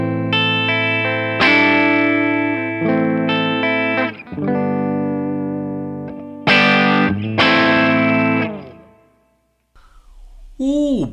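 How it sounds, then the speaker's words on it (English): PRS Modern Eagle V electric guitar plugged by cable straight into a Boogie amp, ringing distorted chords and sustained notes with chorus-like shimmer, several strummed phrases separated by brief gaps, a short bend at the end. "Guitar, cable, straight to the boogie."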